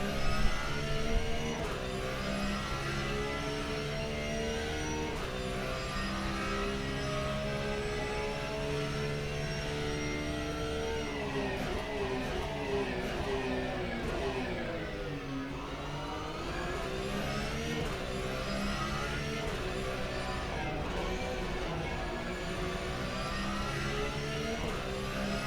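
A Porsche race car in a Crest Autosport round 3 race, engine at full throttle: a loud, continuous onboard roar that climbs steadily in pitch, dips briefly around a gear change, then rises again.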